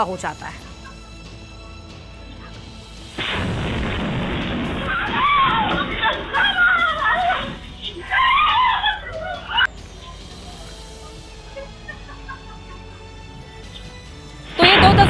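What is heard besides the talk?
homemade bomb explosion on a rooftop, then people screaming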